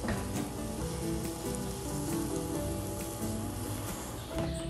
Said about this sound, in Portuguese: vou levar ao fogo médio, mexendo sempre até desgrudar completamente no fundo da panela